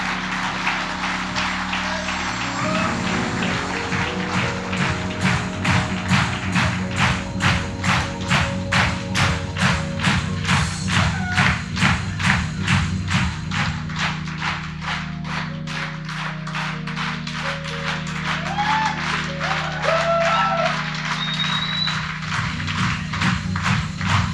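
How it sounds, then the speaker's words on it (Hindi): An audience claps in steady rhythm as Diamond-rank leaders walk onto the stage at a Hindi-hosted event. The even beats run about twenty seconds over a continuous musical backing. "ताली बजाओ, आपके डायमंड आ रहे हैं"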